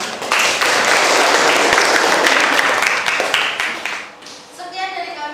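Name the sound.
applause for group 1 after their presentation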